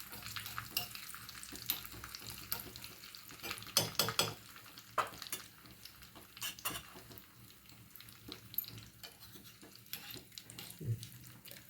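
Curry leaves and two or three chili pieces crackle in hot tempering oil with cumin, making a faint sizzle under clustered ladle clinks and pan scrapes, quiet and close.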